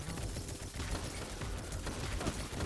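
A rapid burst of shotgun fire in Destiny 2 crackles continuously, fairly quiet, with dense overlapping shots and no voices.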